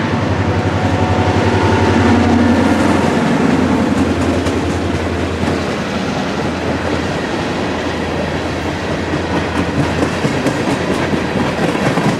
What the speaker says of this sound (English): the crew generally opens it up on the throttle, making for an impressive show as the train hustles north towards Hialeah Yard